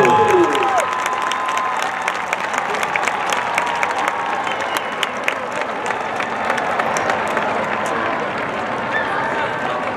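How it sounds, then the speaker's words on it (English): Sustained crowd applause and cheering for high school marching bands at a night UIL awards ceremony, steady and loud with scattered whoops, and voices in the crowd underneath. "One more big round of applause for these wonderful students, wonderful bands"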